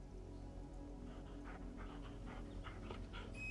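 A dog pants in the Final Fantasy XVI video game, quick rhythmic breaths repeating close up over a soft bed of steady rain.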